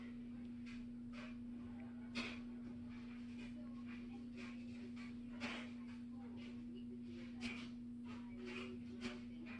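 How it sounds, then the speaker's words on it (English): A steady low mechanical hum runs throughout, like a clothes dryer tumbling in another room, with faint clicks and brief noises over it. "I'm sorry if you can hear my dryer in the background"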